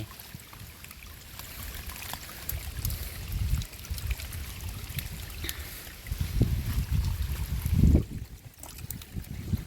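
Rainwater running after a heavy downpour, a steady outdoor flow with trickling and gurgling that swells at moments, heard fairly faintly with no talking.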